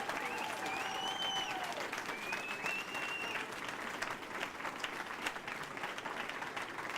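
A conference audience applauds warmly, a steady wash of clapping with a few voices calling out over it at the start, fairly faint and distant.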